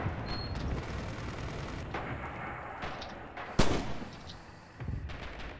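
Gunfire and distant artillery in the World War II shooter Red Orchestra 2, on a Territory map at the Commissar's House, scattered far-off shots and rumbling booms with one sharp close crack midway.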